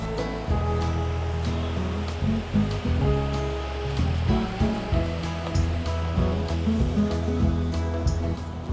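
Surf rolling onto a large, busy swimming beach at Visakhapatnam on India's east coast, a steady broadband wash of breaking waves that continues without pause.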